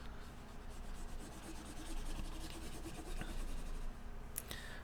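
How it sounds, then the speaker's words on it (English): Dry rubbing and scraping of an eraser being wiped across a board during an algebra lesson, a steady close-up shushing texture with faint taps near the end. "I'm just going to erase this."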